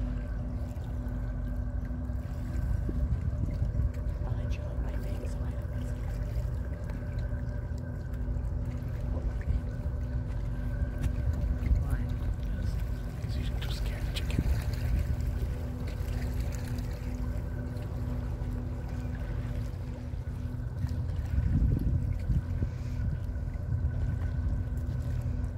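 A tugboat's diesel engine runs steadily on open water near a car ferry route, a continuous low droning hum with a faint tonal whine, moderately near and without talk.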